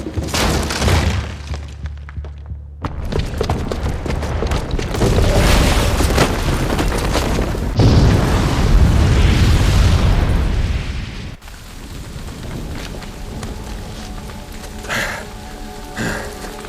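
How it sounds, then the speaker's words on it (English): A bomb rigged with a booby trap detonates in Horizon Zero Dawn, producing a loud, sustained roar of blast and crumbling debris. A brief gap follows, then a second heavy burst, before the noise fades into rumbling, rain-like falling rubble. "the booby trap on the bomb downstairs is gonna get set off"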